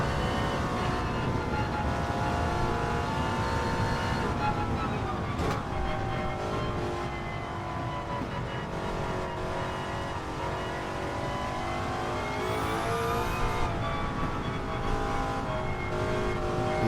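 A 1955 Mercedes racing car in a video game race, its engine droning continuously with rising and falling revs, a steady mechanical roar throughout with brief shifts in pitch.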